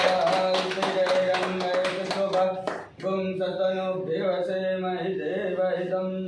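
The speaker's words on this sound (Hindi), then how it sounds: "तालियां।" At a logo launch event for an EV charging business, an audience claps in a quick, rhythmic burst over music or chanting. The clapping stops around the three-second mark, and the tonal sound carries on alone.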